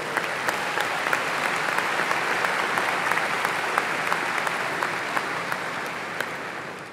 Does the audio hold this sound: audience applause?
yes